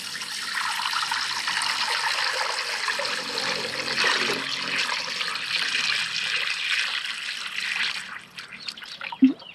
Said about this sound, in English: So I'm gonna add water now.